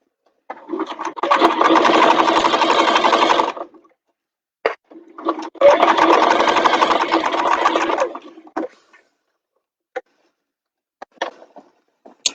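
A sewing machine stitching through the fabric of a bag, running in two loud steady bursts of about three seconds each, separated by a pause and followed by a few scattered clicks.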